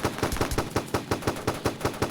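Rapid, evenly spaced pistol shots ring out in the FPS game Gun Ground, about a dozen sharp loud reports in a steady rhythm with no voices.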